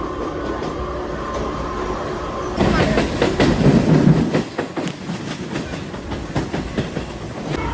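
Passenger train running on rails during the monsoon, a steady rumbling ride that turns louder partway through with rhythmic clickety-clack wheel beats, heard from inside a carriage.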